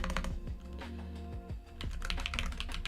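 Fingers type on a computer keyboard in a steady patter of quick, close clicks, with a few brief pauses, under a low background hum.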